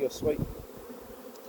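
Honey bees buzz steadily and close on hive frames as a frame is lifted during a hive inspection; a brief spoken voice sounds at the start.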